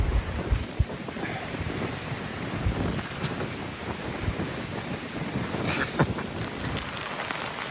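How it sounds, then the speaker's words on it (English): Rain comes down on an open field in Scandinavia, a steady broadband hiss mixed with gusty wind buffeting the microphone and a few louder nearby drop impacts, with no talk. "And the rain's back again."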